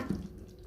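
Tap water runs briefly into a pot of washed rice while cooking pilau, a short soft splash and pour.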